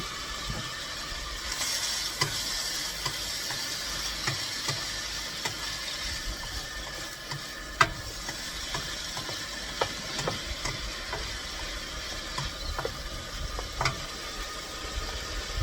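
A wrap filling with mozzarella sizzles steadily in a pan, a constant bright frying hiss with occasional small pops and clicks, close and unbroken, with no talking.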